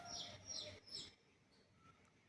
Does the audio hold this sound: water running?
no